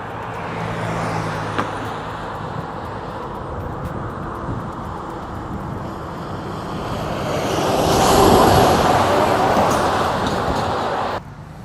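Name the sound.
rush hour road traffic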